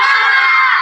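Schoolchildren in a classroom shout a class cheer (tepuk semangat) together: a loud, sustained chorus of young voices, close and filling the room, lasting under a second.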